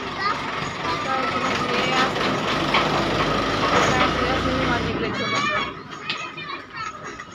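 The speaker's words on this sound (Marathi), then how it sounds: "शाळेची गाडी आली" A school bus pulls up with a steady, heavy engine rumble. Children's voices and nearby chatter run over it, and the rumble drops off sharply near the end.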